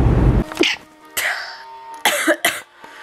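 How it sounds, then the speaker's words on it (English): Several harsh coughs from someone with the flu, in separate bursts, close and loud, with a brief throat-clearing sound between them. "I can't stop sneezing and coughing"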